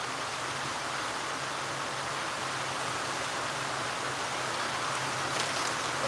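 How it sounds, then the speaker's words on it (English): Steady rain falls in a dense, even broadband hiss that holds unbroken throughout, close and moderately loud, with no voices over it. "Listen to the rain."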